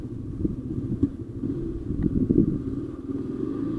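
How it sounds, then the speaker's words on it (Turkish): Low rumbling motorcycle engine with a misfiring fault, running unevenly with small irregular bumps and stutters, close and moderately loud with no talking. "Motor bir tekleme yapıyor ya."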